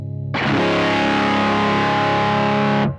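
A heavily distorted electric guitar chord rings out loud and sustained for over two seconds, then cuts off abruptly, no voices present.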